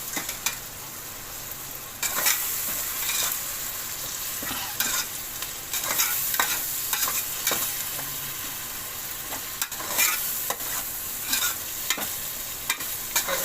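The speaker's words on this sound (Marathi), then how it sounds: "आणि चांगलं भाजून घेऊया." Ingredients for chicken biryani roast in a pan, sizzling steadily as a spoon scrapes and knocks against the metal in irregular strokes, close-up and continuous, with no voices.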